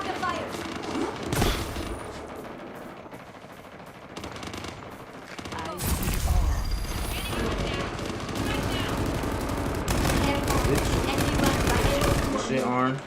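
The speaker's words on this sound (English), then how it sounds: "We're under fire." Video game gunfire comes in repeated automatic bursts and scattered shots with booms and mechanical noise, under excited talk from players.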